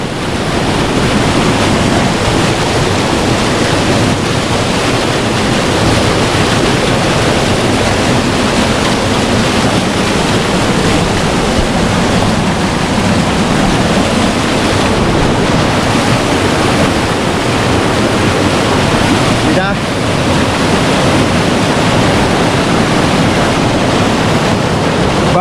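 Waterfall in the Ronda gorge pouring steadily, a loud, dense, unbroken roar of rushing water lasting the whole stretch with no voices.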